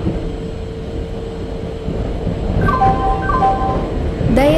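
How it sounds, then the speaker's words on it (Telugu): Garib Rath Superfast Express train arriving at platform number 3 in the Indian Train Simulator game, a steady rumbling roll with a short burst of horn-like tones midway and a rising tone at the end. "Rath Superfast Express is arriving at platform number"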